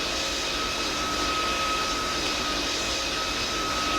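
A steady, loud airplane engine drone from a plane flying in the Roblox-style game PTFS near Lukla airport, with a constant whine held throughout and no talking.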